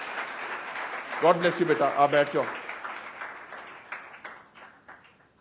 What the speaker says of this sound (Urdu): میں چاہتا ہوں اس کے لیے بھی ہم زوردار تالیاں بجائیں گے